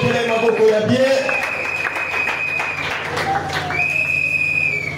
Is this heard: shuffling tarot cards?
no